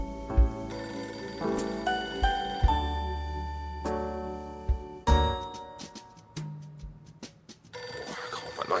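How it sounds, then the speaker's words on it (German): Ringing of a telephone in a home at night, a series of bell-like tones repeating through the scene amid other soft rings and chimes, fairly quiet and alone with no voices. "Kaum hat man sich hingelegt, geht das Telefon."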